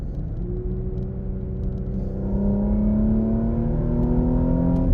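A 2022 Porsche Macan SUV accelerating in manual mode with paddle shifters, its engine droning loud and close with a rising, steadily climbing pitch over a rumbling road roar throughout.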